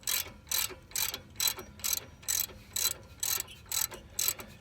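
A ratchet with a 17mm socket tightens brake caliper bolts on a 1996 Isuzu Rodeo. It makes about a dozen evenly spaced, crisp clicking bursts, close and clear, with no speech.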